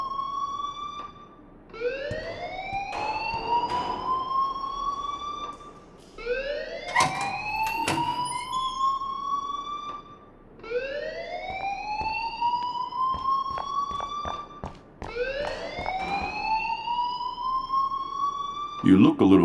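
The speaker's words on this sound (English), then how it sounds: "please turn off that alarm since that's your job" In the Life Is Strange video game, a loud alarm wails in repeated rising sweeps, each lasting a few seconds with brief gaps between them, while people talk over it.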